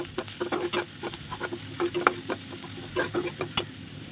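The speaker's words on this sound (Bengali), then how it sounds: "পেঁয়াজগুলো একটু ফ্রাই করব।" Onions frying in a pan, with ginger and garlic paste about to be added, give a steady close sizzle broken by repeated scraping stirs in an uneven rhythm.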